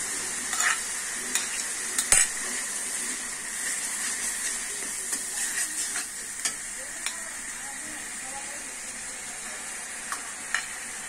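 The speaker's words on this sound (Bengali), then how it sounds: "খাঁটি সরিষার তেল দিয়ে রান্না করা হচ্ছে। তারপরে দিচ্ছে রসুন বাটা" Garlic paste frying in pure mustard oil gives a steady close sizzle and hiss, with scattered sharp clicks and scrapes of stirring throughout.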